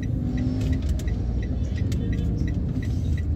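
A car drives out from a narrow street onto the highway near a roadside tire vulcanizing shop, its engine a steady low rumble close by, with faint ticking and traffic noise above and no talk.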